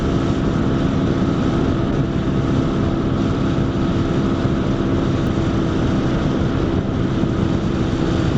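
Steady, loud engine drone of a brand new 2025 Lifan KP motorcycle on an early morning ride, with constant wind rush and no voices.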